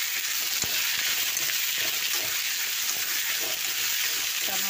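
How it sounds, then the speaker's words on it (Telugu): Tomato pieces sizzle and fry in a pan for a drumstick tomato curry, a steady close hiss with a faint stir or clink, no voices. "తర్వాత టమాట ముక్కలు వేసుకోవాలి."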